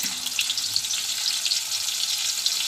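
Garlic and shallots sizzle steadily in hot oil in a pan, a dense, even crackling hiss that stays close and constant throughout without any talk.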